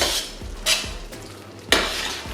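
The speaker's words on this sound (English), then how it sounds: "Then I'll mash it with the potatoes while it's still hot." Mince being mashed together with hot potatoes, a few close, bursty scraping and squishing strokes with a utensil knocking against the bowl, with no voices.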